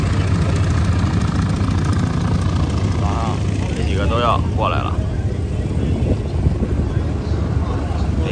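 Aircraft flying in formation at the EAA AirVenture Oshkosh airshow, a steady engine drone running throughout at moderate loudness beneath someone talking.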